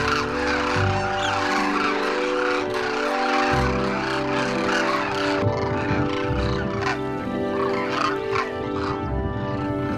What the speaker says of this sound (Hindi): फिर ये पक्षी इस बाड़े से निकलकर गांव के तालाब की तरफ चल पड़ते हैं।